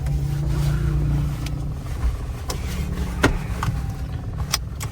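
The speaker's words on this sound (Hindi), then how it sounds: "ये भी बहुत ज़्यादा बिजी सा एरिया है, मतलब काफ़ी ज़्यादा ट्रैफिक होती है इस रोड पे" Car driving along a busy road in heavy traffic, with a steady engine and road rumble throughout and occasional brief ticks and passing sounds on top.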